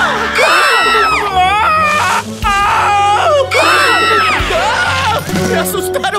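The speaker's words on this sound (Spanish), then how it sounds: "¡Me asustaron con ese grito!" Loud, high-pitched screaming in repeated rising and falling wails, several voices overlapping, with short breaks between bursts.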